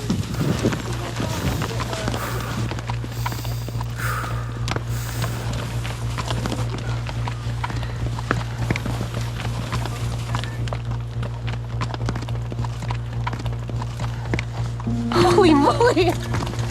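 Horse hooves thud and clop on the ground at a steady walking-to-running pace, close by, beneath frequent excited talk and a constant low hum.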